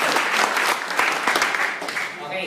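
Loud, close applause from an audience at a marketing plan presentation, dense clapping filling the moment before fading slightly at the end.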